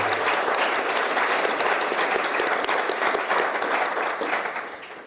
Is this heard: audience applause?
yes